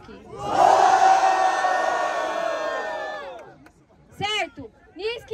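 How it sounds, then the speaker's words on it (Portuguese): A loud crowd roars and cheers for about three seconds at a Batalha da Leste semi-final rap battle, the 500th edition, then fades as a voice of the MC speaks over it. "E aí, família, barulho e mão para Yong e Basque."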